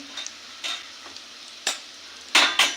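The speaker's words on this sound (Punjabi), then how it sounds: "ਹੁਣ ਥੋੜਾ ਜਿਹਾ ਮੇਥੀ ਤੇ ਹਰੀ ਮਿਰਚ ਨੂੰ ਵੀ ਭੁੰਨ ਲਿਆ ਜੀ" Fenugreek and green chili roasting in a pan, with a few short scraping stirs and soft sizzles spaced across a quiet background, the last two strokes louder and close.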